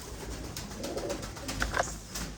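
Pigeons cooing in a room where pigeons are kept, soft low coos, faint and close, with a few brief chirps and rustles and no talk.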